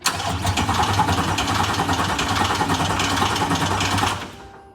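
A rebuilt 2023 Corvette C8 engine cranks and fires up into a loud, steady rumbling idle that holds for several seconds before cutting off abruptly.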